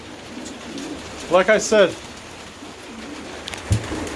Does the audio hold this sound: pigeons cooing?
yes